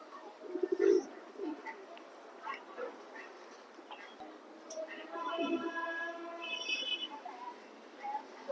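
Top-quality racer pigeons cooing at close range, with soft repeated coos and bird calls scattered through the clip, while someone talks over them.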